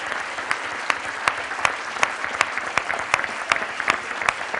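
Audience applause after a dramatic Mars landing, dense steady clapping with scattered sharper claps punctuating it throughout, fairly loud and close with no voices on top.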